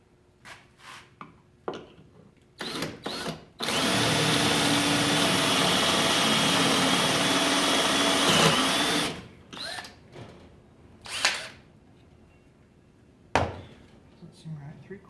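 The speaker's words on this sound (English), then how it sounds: "I'll just get my pocket holes in here." A drill bores pocket holes into wood for a desk phone stand, one loud, sustained whine of about five seconds, with scattered knocks and handling noises before and after.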